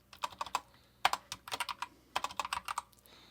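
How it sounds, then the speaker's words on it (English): Computer keyboard keys being typed in quick bursts, with clustered clicks and short pauses between runs of keystrokes, close and clear with no talking. "So I'm going to type in exactly as it is"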